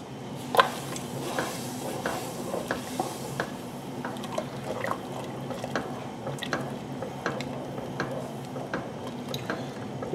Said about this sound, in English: We'll stir these in.